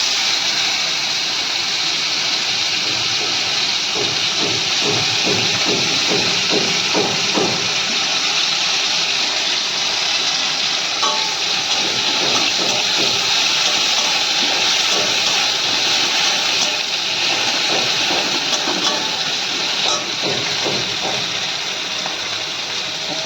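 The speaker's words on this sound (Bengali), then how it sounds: "পেঁয়াজটা ওই তেলে দিয়ে দেবো" Sliced onion fries in hot oil for a Bengali fish and taro-stem curry, a constant loud hiss and crackle of sizzling that runs steadily throughout.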